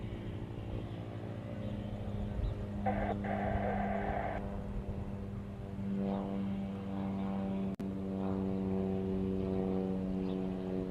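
A Cessna Grand Caravan turboprop at an airport runs with a steady propeller drone and engine hum, moderately distant and continuous, with a brief broader whoosh partway through and a sharp click later.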